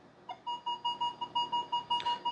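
A Minelab Equinox 900 metal detector gives a run of about a dozen short, evenly spaced electronic beeps, close and moderately loud, as it sweeps over a Washington quarter, with no talking.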